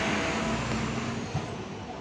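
An RTC bus drives along, its engine humming steadily as the cabin rumbles and road noise washes through the interior, with no talk.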